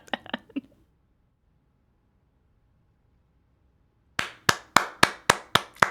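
A single person clapping close by, a quick burst of four claps, a long silence, then six evenly spaced, crisp claps in a steady rhythm.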